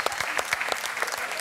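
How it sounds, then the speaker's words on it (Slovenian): An audience at a Slovenian rural village competition show claps in a dense, steady burst of applause, close and loud throughout. "En aplavz za Črno na Koroškem in aplavz za Vinsko goro."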